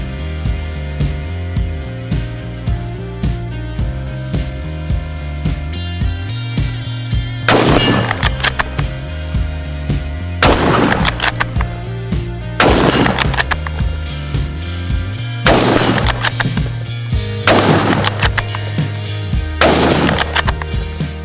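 A Steyr Scout Stainless rifle in .223 Rem fires at a 100-yard target: five sharp, loud reports spaced a few seconds apart, heard over a steady music track.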